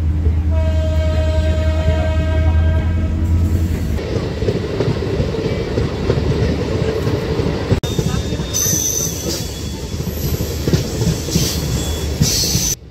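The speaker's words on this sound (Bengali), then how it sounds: "কোনো রকমের ট্রেনের ওঠার পরে 30 মিনিট বাদে 11:45-এ ট্রেনটা চলা শুরু করলো।" A crowded passenger train pulls away from the station, with rumbling wheels, squealing and a horn-like tone over a steady loud roar throughout.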